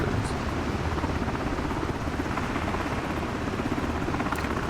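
A helicopter flies in a flight simulator game over Manhattan. A steady, loud rotor and engine drone fills the whole short stretch with no talk.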